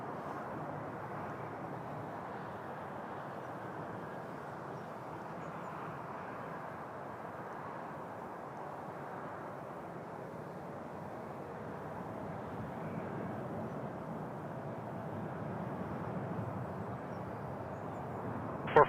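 A Boeing 777 airliner rolls for takeoff on runway 06 left at Toronto Pearson, giving a steady, loud broadband engine roar that holds for the full stretch and swells slightly toward the end, with no voices.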